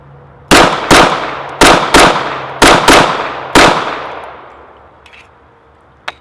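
Sharp, loud gunshots from a Ruger 1911 pistol at a range crack out in an uneven string of seven over about three seconds, each echoing off before the next, then a fading tail and one faint final click.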